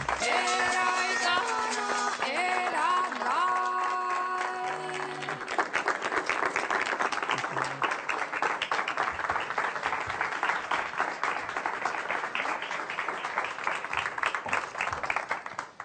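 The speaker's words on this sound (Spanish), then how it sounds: "Pocas veces un aplauso tiene tanto sentido." Warm, steady audience applause at a cultural event welcoming Estela de Carlotto of the Abuelas de Plaza de Mayo, rising after a musical intro and continuing densely for about ten seconds.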